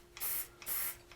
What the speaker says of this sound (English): So we're gonna spray this